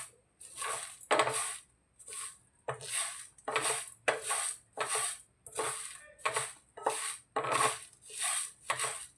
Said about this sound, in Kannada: ಹಾಗೆ ಡ್ರೈ ರೋಸ್ಟ್ ಮಾಡ್ತಾಯಿದ್ದೀನಿ ತುಂಬ ಸಣ್ಣ ಉರಿನಲ್ಲಿ